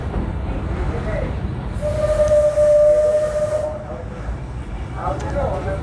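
An Alishan Forest Railway steam train with cypress-wood carriages, running from Beimen toward Chiayi, sounds a sustained whistle for about two seconds over the continuous rumble and clatter of the moving cars.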